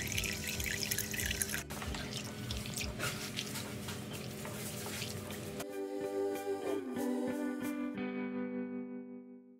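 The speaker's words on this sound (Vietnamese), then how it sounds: "mình rửa sạch 100g đậu xanh và ngâm với nước tầm khoảng 4 tiếng" Mung beans are washed and soaked in water, with close splashing, dripping and trickling at first, then a lighter, more tonal pour of water before it stops and fades out near the end.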